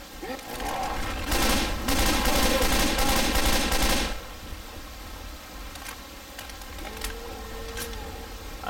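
Rapid gunfire in the zombie shooter Left 4 Dead 2 on the Hard Rain campaign, a dense loud automatic burst for a few seconds, then quieter scattered single shots.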